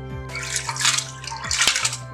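Barley grains poured into water in a pressure cooker, producing close splashing and swishing bursts over a steady background hum, with no talk.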